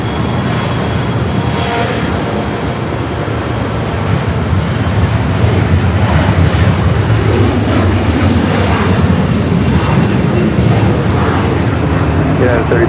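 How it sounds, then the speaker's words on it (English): A JetBlue Airbus A321 arriving at LAX from Newark gives a loud, continuous engine roar that swells as it passes close, with air-traffic radio voices and talk running underneath. "JetBlue Flight 1573 coming in from Newark in A321"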